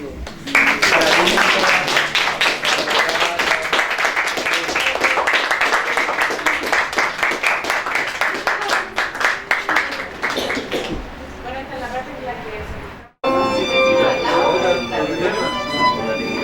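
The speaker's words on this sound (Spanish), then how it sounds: "Un aplauso." An audience at a workshop in Chile claps steadily and loudly for several seconds, the applause thinning out before music takes over.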